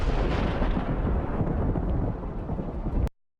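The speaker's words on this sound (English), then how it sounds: "Just one hit to the ammunition, and we can observe a very powerful explosion" An artillery piece's ammunition detonates after a drone strike, a heavy, rumbling blast that roars loudly for about three seconds before cutting off abruptly.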